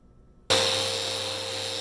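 After half a second of quiet, a power sander starts on an oak and walnut woodworking piece, a loud, close, sustained whine with a steady tone that runs to the end.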